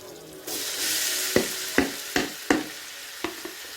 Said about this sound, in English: You're roasting the spices now.